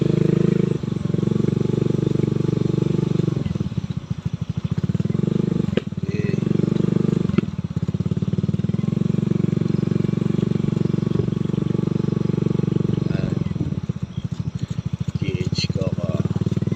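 A motorcycle is ridden slowly alongside a jogging dog on a tree-lined road in Pampanga. Its steady, low engine drone stays close and continuous throughout, with occasional clatter.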